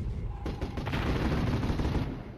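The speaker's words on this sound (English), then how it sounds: "But look at these mortars go to work." Mortars firing in the Warzone 2100 strategy game, a dense rumbling barrage of booms and blasts that rolls on continuously at a steady, moderately loud level.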